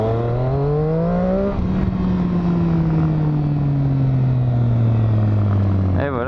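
A car engine accelerates hard through the gears, loud and close. The pitch climbs and drops back at each shift, then a long steady rising pull follows, with a voice briefly underneath.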